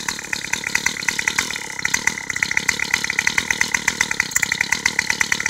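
A lawn mower engine runs close by with a fast, even chugging pulse that holds steady and fairly loud throughout.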